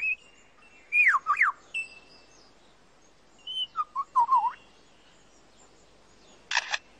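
A lyrebird in the forest imitates a camera with a motor drive: bright whistled phrases and chirps, then a brief burst of rapid mechanical clicking at the end, clear against a quiet background.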